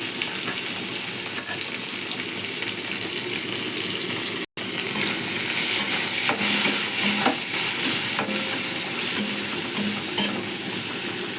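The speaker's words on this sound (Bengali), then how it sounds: "পেঁয়াজটা দেখতে পাচ্ছ হালকা হালকা ভাজা হয়ে গেছে" Chopped onion frying in oil makes a loud, dense sizzle with stirring scrapes, close and continuous apart from a brief cut partway through, and no talking.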